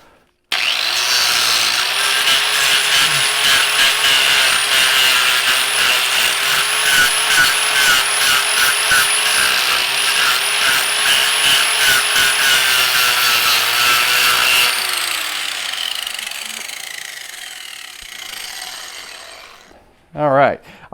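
A lathe spins a faceplate-mounted wooden bowl while a turning tool trims its surface, a loud steady scraping hiss with a humming motor for about fifteen seconds before the cut stops and the spin winds down.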